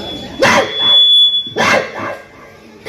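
A student imitates a dog, barking twice loud and close, with a steady high electronic tone in the background.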